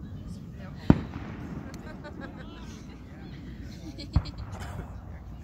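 Fourth of July fireworks going off outdoors, with two sharp, loud explosive bangs about three seconds apart over a steady rumble of crowd noise and voices.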